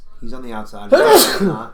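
Someone sneezes once, sharply and close, right after a man's brief speech, during casual talk about a 1990 wrestling Royal Rumble match.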